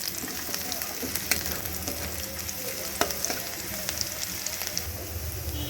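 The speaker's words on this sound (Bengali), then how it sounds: "খুব ভালো করে তেলে এটাকে ভেজে নেব যাতে রসুনের কাঁচা গন্ধ না বের হয়" Garlic with chopped green chilli frying in oil for a bitter gourd dish, a steady close sizzle with occasional sharp crackles and stirring scrapes, no talk.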